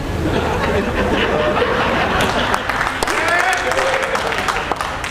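Audience clapping fills a comic Punjabi stage drama performance, a steady wash of applause mixed with crowd chatter and scattered chuckles from start to finish.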